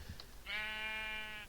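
A single sheep bleat from Minecraft, a steady, buzzy, nasal call lasting about a second, clear and close, preceded by a faint soft click.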